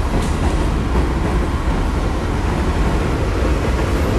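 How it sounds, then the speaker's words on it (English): A Bronx subway train rushes past on the other side going the opposite direction, a loud, steady, close rumbling roar of wheels and cars with no pause or talk. "See the other train, the other side behind me, the train, the other side. It's going the opposite direction"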